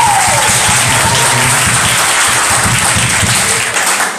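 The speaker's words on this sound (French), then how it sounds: "Voilà, on vous demande d'applaudir chaudement." A crowd at a Bible quiz applauds warmly for a correct answer, a loud, dense and unbroken roar of clapping that holds for several seconds and tapers slightly at the end.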